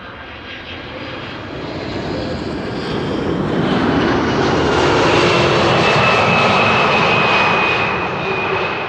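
A United Airlines Boeing 767-300 at Amsterdam Schiphol Airport makes a loud, broad jet engine roar that swells over several seconds and then holds strong, with a thin whine riding on top.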